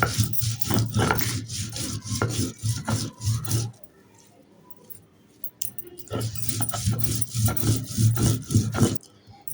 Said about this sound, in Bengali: এখন এর সাথে আমি ধনিয়া পাতাটা বেটে নিব